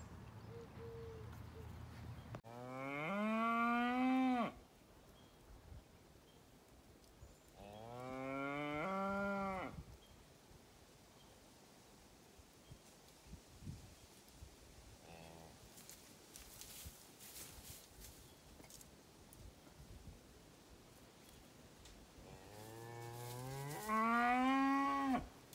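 A cow standing by a fence gives three long, loud, drawn-out moos spaced several seconds apart, with quiet outdoor background between calls and no talking.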